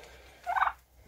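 A turkey gives one short, loud gobble close by, a quick warbling burst in a quiet room, followed by a faint start of another call.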